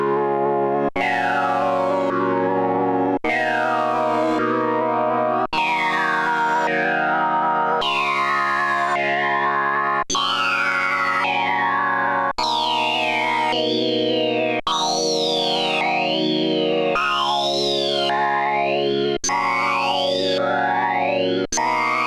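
Arturia MicroFreak hardware synthesizer playing a repeating sequence of bright, distorted tones with swooping pitch glides and echoing effects, loud and continuous with no talk.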